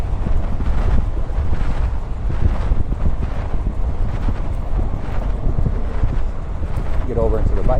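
Strong, steady wind roar buffets the microphone of a gravel bike ridden at night into a headwind, a continuous low rumble with gusty fluctuations throughout.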